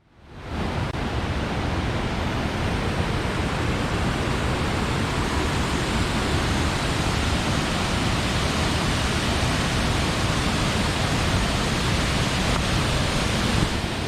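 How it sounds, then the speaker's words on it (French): The Cascada del Suspiro waterfall in the Chiapas jungle of Mexico, a loud, unbroken roar of falling water close by, steady throughout with no voices. "La cascade du soupir."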